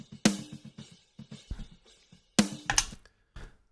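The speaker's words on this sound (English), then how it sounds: "It actually has a little bit of ring to it, a little bit of sustain, and sounds like a snare drum." Snare drum recorded with top and bottom mics blended, a run of sharp hits in an irregular rhythm, some with a short ringing sustain, with soft ghost strokes between louder accents.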